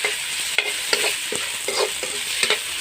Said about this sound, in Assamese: এনেদৰে অলপ সময় কম জুইত ভাজি থাকিব লাগিব